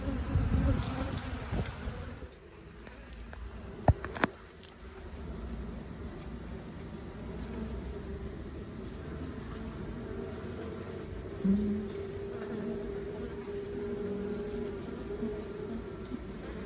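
A five-year-old honey bee colony hums steadily throughout its relocation, a dense, continuous buzz of many bees close by, with a couple of sharp knocks near the start and no voices.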